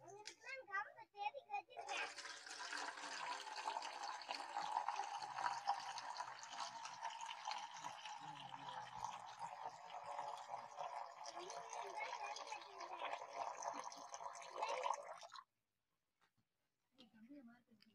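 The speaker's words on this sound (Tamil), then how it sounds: "இதுக்கப்புறம் வந்து பதினியை வந்து உள்ளே மிக்ஸ் பண்ண போகிறோம்," Palm sap poured into squeezed lemon juice makes a steady, close splashing trickle for about thirteen seconds, with a few brief sounds before it and a short quiet stretch after.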